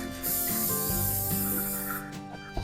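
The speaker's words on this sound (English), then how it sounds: "you'll just spray it with oil and cover it with wax paper and set it aside." Oil sprayed from a can over sourdough bread dough, a steady loud hiss running nearly continuously for about two seconds before trailing off.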